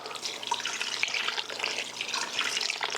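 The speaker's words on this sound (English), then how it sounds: "So we're adding in our water." Warm water pours steadily into a loud mixing bowl for Czech-style sourdough rye dough, a continuous close splashing rush with no voices.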